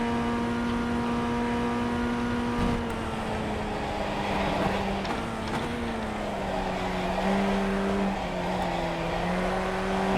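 A race car in the iRacing simulator drives through corners, its engine holding a steady, droning tone that dips and rises with gear changes. It runs loud and continuous, with faint tire noise underneath.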